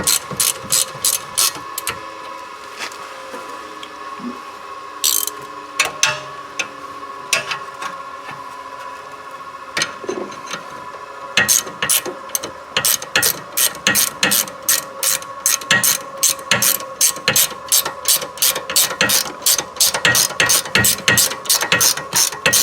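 A ratchet tightening rear brake bolts on a 2012 Nissan Altima 2.5L, sparse clicking at first, then long runs of rapid, loud, close clicks in steady bursts, alone with no talking.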